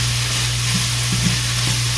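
Onions cooking down in a pan give a steady sizzle over a constant low hum, with a few soft stirring scrapes partway through.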